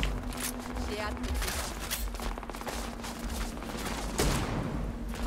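Bursts of gunfire from a weapon in the sci-fi video game Starfield, steady and fairly continuous rapid shots under a voice speaking French throughout.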